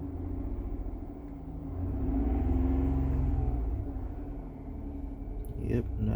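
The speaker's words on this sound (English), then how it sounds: "I'm gonna try revving it up." A parked 2019 Kia Sorento with a 3.3L engine and a reported misfire idles, then is revved in a moderate swell of rumbling engine noise that peaks and settles, with someone talking over it.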